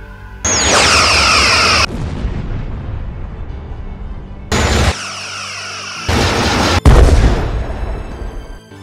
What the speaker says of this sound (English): Phasers locked on. Phasers, fire, point blank.